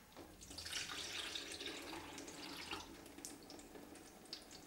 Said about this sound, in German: Als erstes müssen wir den Ansatz filtern.